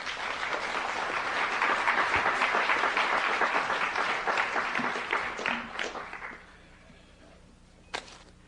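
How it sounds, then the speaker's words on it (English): A conference audience applauds as four panelists are welcomed, a full, steady round of clapping that holds for about five seconds, then tapers off into near quiet with one last stray clap. "join me in welcoming these four panelists"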